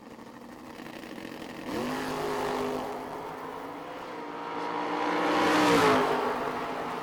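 Pair of dragsters racing down a drag strip at a summer shootout, engines roaring loudly and steadily, surging in a rising swell toward the end as the cars power away.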